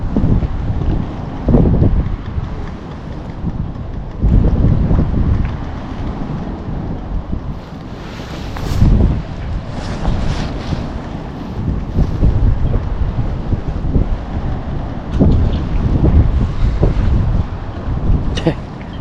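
Strong easterly wind buffets the microphone on a Dublin pier, roaring in loud, uneven gusts with waves and surf rumbling beneath throughout.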